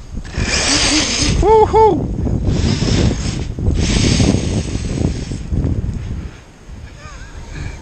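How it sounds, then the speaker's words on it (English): An Arrma Raider BLX XL RC car with paddle tyres whines and revs on snow, its motor pitch rising and falling in bursts amid gusty wind noise, with a person briefly cheering. "Put the paddle tyres on for the first time, and so let's see how the Raider XL gets on."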